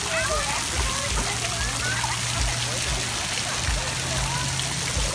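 Children splash through sprinkler water outdoors, with a steady, continuous wash of spray and sloshing heard close, mixed with excited voices and shouting over it throughout.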